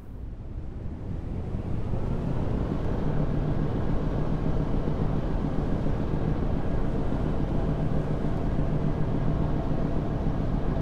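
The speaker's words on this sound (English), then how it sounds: "Bow thruster on." Ship bow thruster running in a ship simulator during an anchoring exercise, a steady low rumbling churn with a faint tonal hum, continuous and fairly loud with a windy, wash-like texture and no talk.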